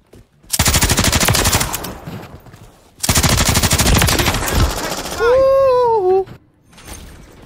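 Bursts of rapid automatic gunfire from a weapon in the video game Call of Duty: Modern Warfare III, two long loud volleys separated by a short gap, followed by a rising electronic tone.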